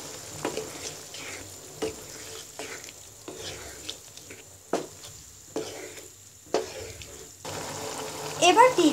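Boiled green peas tipped into a pan of aloo matar curry, giving a few soft splashy stirs and clatters with a light sizzle and watery rustle, repeated in bursts over about nine seconds.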